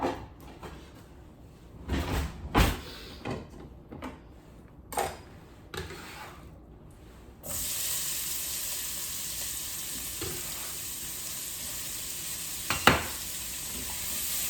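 Chopped onion hits a hot pan slick with bratwurst drippings, bursting into a loud, steady sizzle that holds until the end, with a couple of utensil clatters and scrapes just before it starts.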